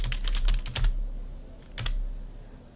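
Rapid keystrokes clatter on a computer keyboard as a short line of text is typed, a quick burst of clicks, a pause, then a few more taps, close and clear.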